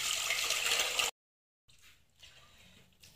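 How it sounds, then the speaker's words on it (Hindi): Hot water poured off boiled potatoes into a strainer, a steady rushing splash for about a second that cuts off abruptly, followed by quieter trickling and dripping. "अच्छा जी, अभी इसमें से गर्म पानी निकाल लेंगे।"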